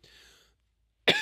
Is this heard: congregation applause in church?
no